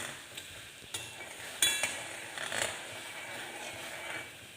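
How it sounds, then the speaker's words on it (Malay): A spoon stirs jelly powder into lychee-flavoured water in a bowl, giving soft scraping and clinking strokes at close range with a few sharper taps. "Kacau-kacau."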